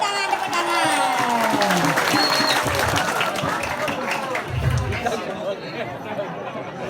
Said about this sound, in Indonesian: Woi, tepuk tangan.